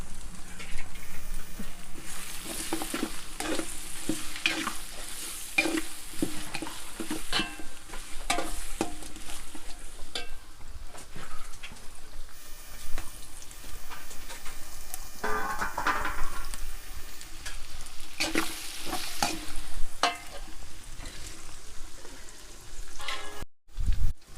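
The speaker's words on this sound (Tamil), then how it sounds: "வெங்காயம் நல்லா வதங்கிருச்சு" Small onions, crushed on a grinding stone, sauté in a pan for a village-style country chicken curry: a continuous low sizzle broken by frequent scraping and tapping of a stirring spoon, with a brief clunk near the end.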